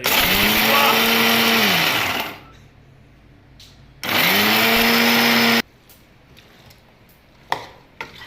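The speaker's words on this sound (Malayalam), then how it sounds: "നല്ല മിക്സിയിലിട്ടുണ്ട്" A mixer grinder grinding spices whirs loudly for about two seconds, stops, then runs again in a second short burst, followed by quiet clicks and a sharp tap.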